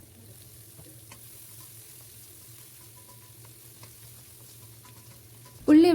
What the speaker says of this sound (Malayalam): ഇനി ഇതിലേക്ക് ഒരു ഉള്ളിൻ്റെ പകുതി അരിഞ്ഞതാണ്, അത് ഇട്ട് കൊടുക്കുന്നുണ്ട്. അതൊന്ന് ആവശ്യത്തിന് ഉപ്പും ചേർത്തിട്ട് നല്ലൊന്ന് വഴറ്റിയെടുക്കുകയാണ് വേണ്ടത്.